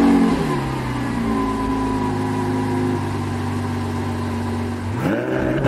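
A Lamborghini Aventador engine sits at a loud, close idle with a rough mid-pitched drone, then blips upward in a short rev near the end, with no talking over it.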